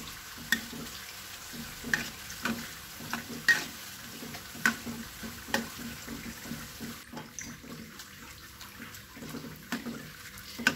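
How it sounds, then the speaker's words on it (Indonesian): Garlic sizzles in hot oil, a close, steady frying hiss broken by sharp crackles and pops and occasional stirring scrapes. "kita akan menggoreng bawang putihnya sampai berwarna"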